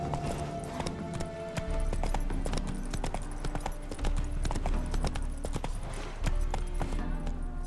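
Horse hooves galloping in The Witcher 3 video game, a steady rapid clip-clop rhythm that runs close and loud throughout, with brief surges of pace.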